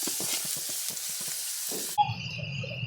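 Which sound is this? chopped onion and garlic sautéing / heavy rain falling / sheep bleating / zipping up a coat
chopped onion and garlic sautéing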